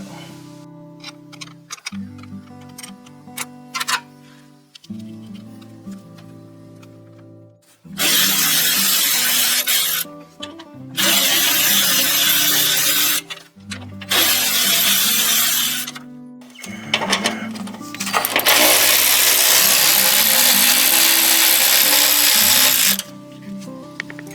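Bolts on a 2001 Mustang are undone with a power tool, heard as several long, loud whirring bursts separated by pauses and quieter clicking handling noises.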